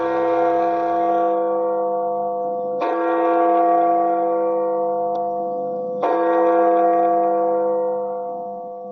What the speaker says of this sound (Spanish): mientras sonaban las campanas